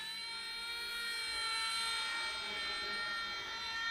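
An RC ERA C187 Eurocopter EC135 model helicopter flies nearby, a steady high-pitched electric motor and rotor whine that holds continuously, with no one talking.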